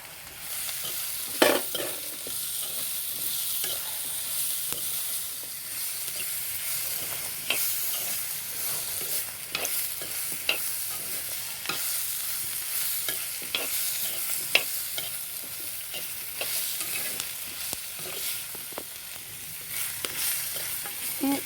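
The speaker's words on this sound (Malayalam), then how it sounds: "ഇത് നല്ലപോലെ വഴറ്റിയെടുക്കാം സവാള ഒന്ന് വഴന്ന് വന്നിട്ടുണ്ട് ഇനി നമുക്ക് തക്കാളി ഇടാം" Onions, and then tomatoes, sauté in a pan for a home curry, a continuous close sizzle broken by repeated scraping stirs throughout, no talking.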